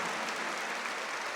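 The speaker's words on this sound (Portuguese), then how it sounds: "Uma salva de palmas a nosso querido Jonas" A church congregation claps for Padre Jonas Abib during a Mass homily, a dense, even burst of many hands filling the space for a brief moment with no voices.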